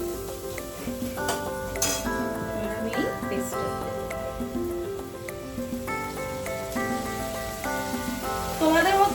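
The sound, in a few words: onions frying with salt in pan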